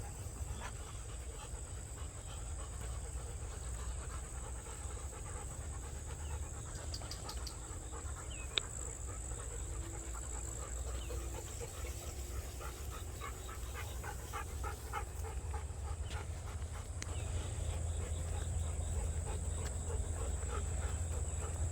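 A dog pants quietly in quick, rhythmic breaths against a low background hum, the panting growing a little more distinct toward the end.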